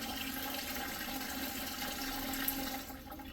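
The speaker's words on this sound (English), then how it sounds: "So if I pinch the hose, it stops the flow, but it keeps the siphon." Aquarium water drains through a siphon hose from a planted tank during cleaning, a steady continuous rushing and trickling flow that stays loud and close, easing slightly near the end.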